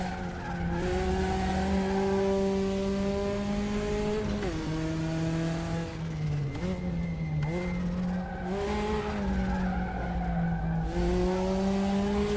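A Porsche race car in the RaceRoom racing game holds a steady engine drone through gear changes and dips in revs, with tire squeal layered over it, heard continuously for about twelve seconds.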